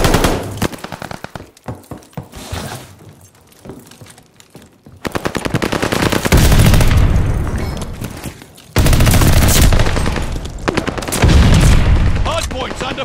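Sustained machine gun fire rattles around a hardpoint in Call of Duty Vanguard, loud rapid bursts coming in long stretches with brief lulls between them, mixed with booms and game voice callouts.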